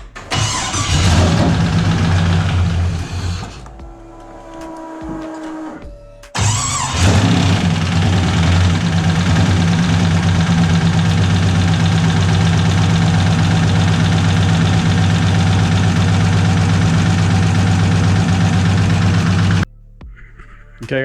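An LS V8 swapped into a Datsun cranks and fires, cuts out briefly, then restarts and runs at a loud, steady idle up close before shutting off near the end.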